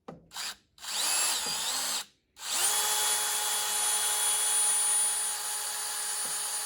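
A power drill bores 7/32-inch holes into the bearing carrier of an Alpha/Bravo outdrive lower unit. Two short starts are followed by a loud, steady whine that holds for several seconds up close, with no talking.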